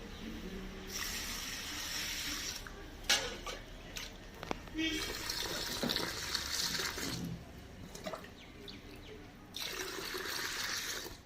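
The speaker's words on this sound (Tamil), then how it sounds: "இதில் வந்து மூணு லிட்டர் தண்ணி ஊற்றி இதை சமைக்க போகிறேன்" Water streams steadily into a pot holding half a kilo of black rice, three litres in all, as the first step toward homemade black rice vinegar; the splashing pour comes in a few bursts, close and fairly loud.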